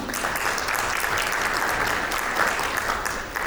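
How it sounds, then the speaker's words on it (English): Audience applause for ten shortlisted students at an innovators platform session, a dense steady wash of many hands clapping throughout, fairly loud and continuous with no talk over it. "let's clap for them, please"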